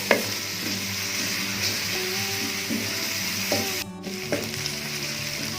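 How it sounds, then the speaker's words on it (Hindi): Steady sizzling of onions frying in a hot pan, with occasional stirring scrapes and a brief clatter near the end. "प्याज को फ्राई करते हैं थोड़ी देर।"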